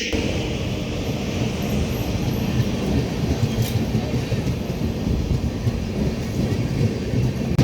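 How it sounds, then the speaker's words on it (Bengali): Amrit Bharat Express train at Barsoi Junction station, a steady broadband rumble of the train throughout, continuous and loud with no clear pauses. "ট্রেন এসে পৌঁছেছে এই বারসই জংশন স্টেশনে 6টার সময়।"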